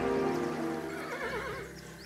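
A horse whinnies in the video game Kingdom Two Crowns, a wavering neigh rising and falling over a steady soft background of game ambience, with no speech.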